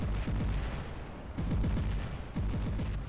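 Griffin shotgun firing in the video game War Robots, loud close blasts in rapid clusters of about four shots, three bursts repeating over a low rumbling game background.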